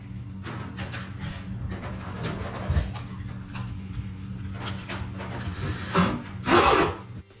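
A 3.5-inch hole is bored through a house wall to install a MrCool ductless air conditioner. Rough grinding and rasping cutting noise comes in uneven bursts over a low mechanical hum, with louder surges near the end.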